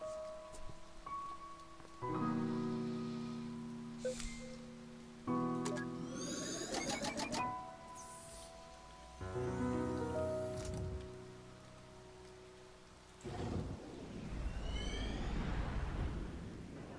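Rain falls in the video game To the Moon, a soft continuous patter beneath melodic music and intermittent game sound effects, with no speech.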